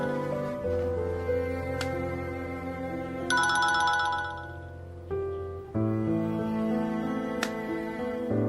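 A mobile phone rings with a melodic electronic ringtone in a Chinese drama dubbed in Hindi, looping steadily at a moderate level and filling the whole stretch alone, with a brief pause and a change of tone partway through.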